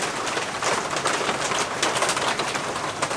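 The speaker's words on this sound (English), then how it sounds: "yeah, the rain's gonna stop at some point" Steady rain falls all around in a dense, continuous hiss, with a pigeon or dove cooing softly somewhere nearby.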